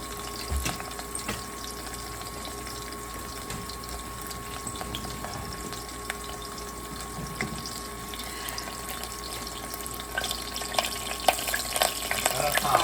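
Steady crackling sizzle of a hamburger patty frying in a pan, continuous and close, with faint clinks and rustles and no talking.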